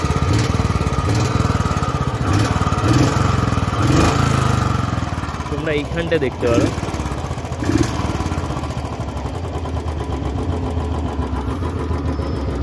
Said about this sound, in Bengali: এইটা হচ্ছে কিক স্টার্ট দেওয়া।